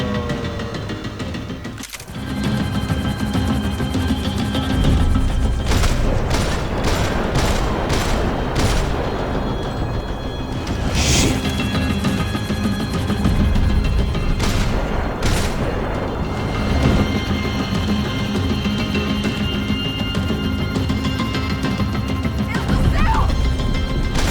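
Heavy gunfire in the action video game Max Payne 3, a dense run of booming shots and cracking impacts with splintering wood, loud and sustained throughout, with voices briefly heard under the barrage.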